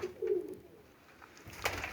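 Racing pigeons cooing in a loft, one soft low coo up close followed by fainter rustling and a brief sharper call.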